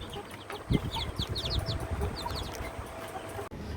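Australorp, Pahari and Deshi chickens cluck and murmur close by in a busy, overlapping chorus, with higher chirps from small birds scattered on top.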